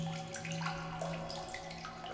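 A water source in The Solus Project video game runs as a faint, steady trickle and splash, with soft running water and light drips close by.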